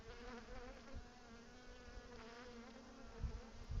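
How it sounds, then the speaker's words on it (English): Wild bees buzzing near their hive on a farm, a continuous close insect drone with shifting pitch from flying bees, steady and fairly faint over a low outdoor background. "I can hear the buzzing very well. I got one angry bee by me"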